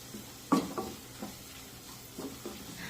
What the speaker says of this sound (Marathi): हे मसाले परतत असताना गॅसची फ्लेम मंदच ठेवा